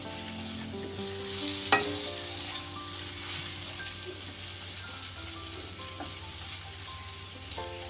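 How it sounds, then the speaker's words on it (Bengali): Okra coated in gram flour fries gently in a pan, giving a soft, steady sizzle with one sharp spoon clink early on and a few faint stirring knocks. "একটুখানি হালকা ভাজা ভাজা হবে, কারণ বেসন দিয়েছি তো, তাই হালকা হালকা ভাজা হয়েছে"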